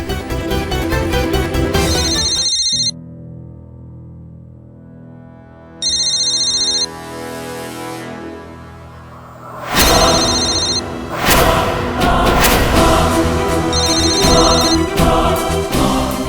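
A phone ringtone plays in loud repeated bursts with pauses between them, alongside whooshing and thumping music stings, with no talk.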